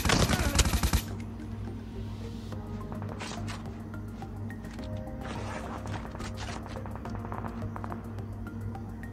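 Call of Duty Mobile gunfire: a loud, rapid burst of automatic shots opens, followed by scattered sharp cracks and clicks over a steady droning game hum.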